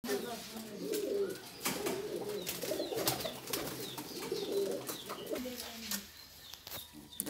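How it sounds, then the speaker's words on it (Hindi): Soft pigeon coos repeat through the clip with occasional chirps, fairly close, while people talk over them. "बहुत अच्छा कबूतर है"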